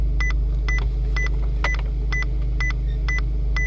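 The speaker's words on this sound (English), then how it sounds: "it will keep giving those beeps that I'm close to the wall" Short electronic beeps from a 2016 Abarth 595C Turismo's parking sensors repeat at a steady, quick rhythm, about two per second, clear and close over a low engine hum as the car nears a wall.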